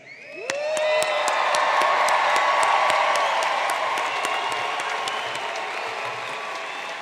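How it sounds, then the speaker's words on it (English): Commencement audience bursts into loud cheering, whooping and applause for undergraduates, with shrill whistles and shouts rising suddenly and then holding steady at full volume throughout. "let's do a UNO proud cheer for our undergrads"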